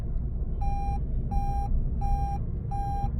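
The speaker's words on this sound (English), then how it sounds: "It's beeping now because I've just hit the speed limit." Four evenly spaced electronic speed-limiter warning beeps sound over steady road and engine rumble as a car reaches its set limit downhill, each a clear high tone lasting about a third of a second.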